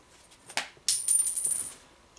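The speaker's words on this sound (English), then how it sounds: "With the coin I flip, it's going to be heads or tails." A coin is flipped on a Tic-Tac-Dough game show, giving a sharp metallic ping followed by a ringing, spinning clatter as it lands and settles, with no voices over it.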